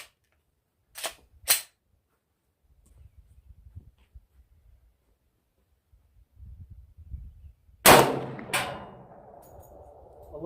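A stock Glock 20 Gen 4 10mm pistol with a 4.6-inch barrel fires bear loads in a velocity test, sharp loud shots in two pairs with quiet handling between, the last pair followed by a ringing decay.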